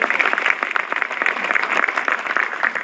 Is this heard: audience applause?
yes